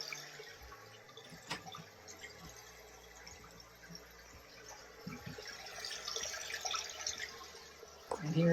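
A bidet toilet in a Tokyo hotel room plays a soft, steady flowing-water sound that continues faintly, with a person talking nearby.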